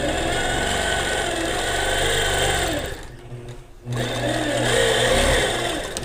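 A sewing machine does free-motion quilting on a small stitched composition with a loud, steady, close mechanical whir that stops for under a second and then starts up again.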